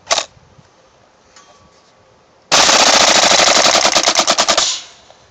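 A KWA M4 airsoft rifle fires one long fully automatic burst of rapid, evenly spaced mechanical cracks, loud and close, after a few faint clicks and near silence; the burst lasts about two seconds and cuts off sharply.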